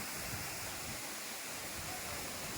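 At Thripparappu waterfall, water pours over tiers of rock in a dense, continuous rushing roar, steady and fairly faint, with no other sound standing out.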